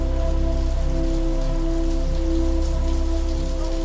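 Heavy rain pours down in a steady, dense hiss of drops on surfaces, continuous and loud throughout, with a low engine-like hum beneath and no voices.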